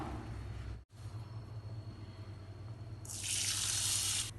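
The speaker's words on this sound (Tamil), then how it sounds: "பருப்பு வந்து 2 டைம் வாஷ் பண்ணிட்டேன்" Tap water running into a kitchen sink while lentils are washed, a steady close gush broken by one brief cut, then a brighter, louder splash toward the end, with no talking.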